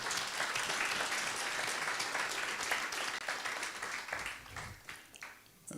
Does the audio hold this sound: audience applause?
yes